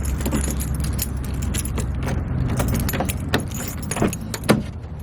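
Keys jangle and clink repeatedly while unlocking a Toyota JZX100 car, with sharp metallic clicks standing out over a steady low background rumble.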